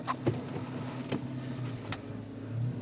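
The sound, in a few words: car starting to drive off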